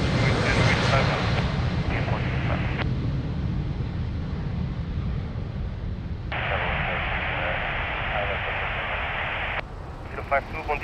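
Embraer 195 jet airliner departing Lisbon Airport, a steady broad engine roar running throughout, heard under radio chatter that breaks in with bursts of talk.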